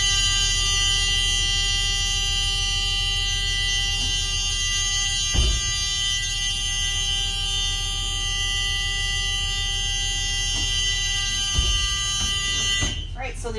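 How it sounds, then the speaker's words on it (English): A bus emergency exit door alarm sounds as a continuous, steady electronic buzzing tone throughout, with a couple of thumps from the door and a clatter near the end. "So the emergency exit opens, alarms, and closes."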